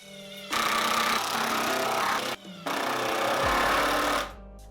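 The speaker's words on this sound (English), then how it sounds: "I could fire in all the rest of the screws." Power drill driving screws into a wooden sled fence in the workshop: two loud, close, sustained whirring runs broken by a short gap, ending as the motor winds down.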